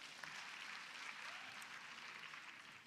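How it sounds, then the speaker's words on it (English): An audience at a girl child summit claps together in a sustained round of applause, even and fairly distant, with no speech over it. "So clap for yourself."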